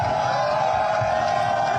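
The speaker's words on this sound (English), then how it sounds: "We got this incredible crowd here." Large indoor crowd of about 8,000 employees roaring and cheering at an event awaiting Pete Hegseth, a steady dense wall of cheers and whoops with scattered voices mixed in throughout.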